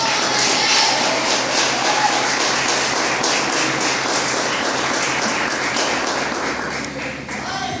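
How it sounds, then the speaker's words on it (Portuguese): Church congregation applauding, a dense continuous wash of many hands clapping at steady loudness, tapering off slightly near the end. "Aplauda Jesus aí."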